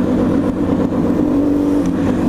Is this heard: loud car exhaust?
yes